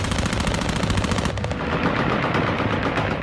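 Taliban fighters firing automatic rifles in Afghanistan after the US withdrawal from Kabul: rapid, continuous rattling bursts of gunfire, loud and sustained, with no talking.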